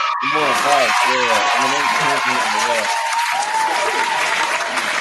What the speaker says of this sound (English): round of applause for Detroit.